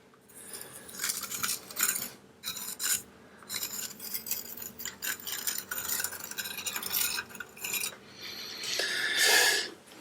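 A scraper spreads and presses filler into a damp-affected wall during plastering, giving repeated scraping and rasping strokes in uneven bursts, close and moderately loud with no voices.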